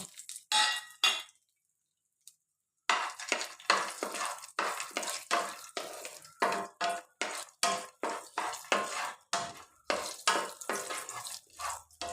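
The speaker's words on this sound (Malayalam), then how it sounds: "അപ്പോൾ നമുക്ക് അണ്ടിപ്പരിപ്പ് ഒന്ന് വറുത്തെടുക്കാം കേട്ടോ" Cashew nuts roasting in a pan in a home kitchen, with a long run of sharp clanging scrapes as a spoon stirs against the metal, rhythmic and close, after a short quiet gap early on.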